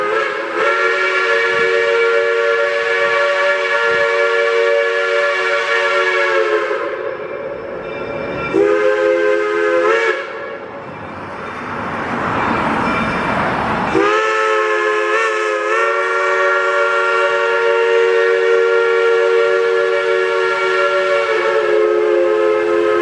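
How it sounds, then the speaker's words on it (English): A Mount Rainier Scenic Railroad train crosses Highway 7 and pulls into Elbe station, sounding a loud, sustained multi-tone horn in long blasts, with a brief break of rumbling passage noise midway before the horn resumes. "the train crosses Highway 7 and pulls"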